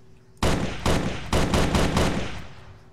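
An unsilenced DMR rifle fitted with a standard muzzle brake fires in a video game, letting off about six sharp, loud shots at an uneven pace, each with a short echoing tail.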